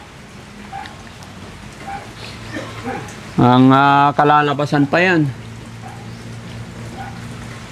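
Steady rain patters on a surface throughout, with someone speaking loudly over it for a few seconds in the middle.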